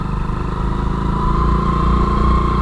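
Hero Splendor motorcycle engine running steadily, a loud low-pitched thrum with a constant drone and no pauses across the whole stretch.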